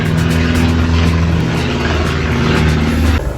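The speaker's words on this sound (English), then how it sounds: "The amount of planes that insist on flying directly over my house multiple times a day" A propeller airplane passes low over a house, a loud steady engine drone with no speech, easing off slightly near the end.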